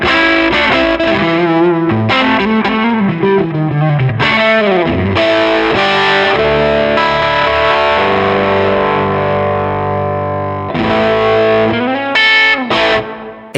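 Electric guitar through an overdrive pedal set to low gain, a warm, lightly driven tone playing sustained chords and melodic lines continuously and loudly with no talk.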